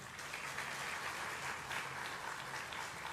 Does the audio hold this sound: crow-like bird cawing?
no